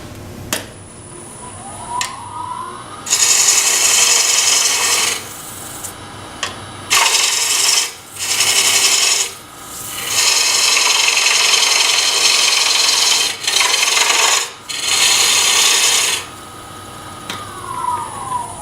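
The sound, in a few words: bowl gouge cutting wood on a lathe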